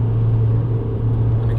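Steady low drone from a 2007 VW Golf GT TDI with the BKD diesel engine, held near 3700 rpm in second gear, a loud continuous vibration hum with no breaks.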